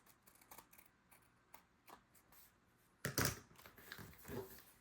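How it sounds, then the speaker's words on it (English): Scissors cut through paper during a craft project, with a few faint snips followed by a louder, close crunching run of cuts near the end. "grab my scissors. I'm just going to cut that off."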